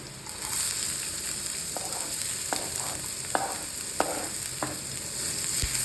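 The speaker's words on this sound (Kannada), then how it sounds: "ಚೆನ್ನಾಗಿ ಫ್ರೈ ಮಾಡ್ಕೊಳ್ಳಿ." Chopped onion and grated garlic frying in a pan: a steady, close sizzle with a few light taps and scrapes from a stirring utensil spaced through it, no voices.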